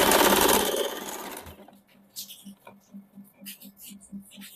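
An electric sewing machine stitches the hem of a suit sleeve. A short burst of fast, loud stitching gives way to slower, rhythmic needle thumps and light clicks.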